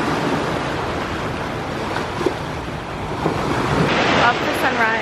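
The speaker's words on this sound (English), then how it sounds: "you can hear the water." Steady rush of ocean surf in Hawaii with wind noise across the microphone, continuous and fairly loud, with a slight swell toward the end.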